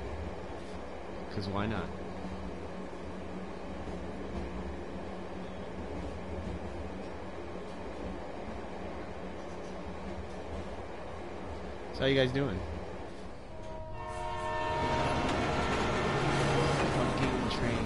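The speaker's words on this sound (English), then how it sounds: "Fucking trains." A train in the video game Let It Die rumbles steadily on the rails, with mechanical clanks and a louder rising drone near the end, under someone talking.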